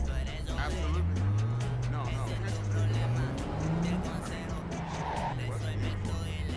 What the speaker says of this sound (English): let me see if I can drift in this